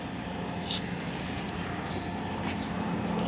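A helicopter flies over outdoors, a steady, broad engine and rotor roar that holds constant without clear rising or fading, with faint voices nearby.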